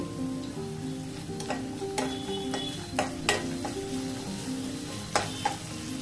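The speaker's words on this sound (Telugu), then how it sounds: "ఇది కొంచెం ఫ్రై అవ్వాలి." Peanuts and flattened rice sizzle and fry in a pan while being stirred, with a steady close sizzle and repeated scraping and tapping of a utensil against the pan, no talk.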